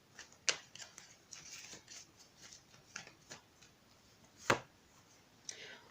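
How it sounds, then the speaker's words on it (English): Tarot cards being shuffled and drawn: quiet, close papery flicks and slaps come in scattered bursts, with a couple of sharper snaps standing out. "Let's pull a couple more cards and see."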